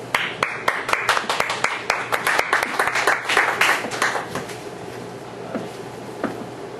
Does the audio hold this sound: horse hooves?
no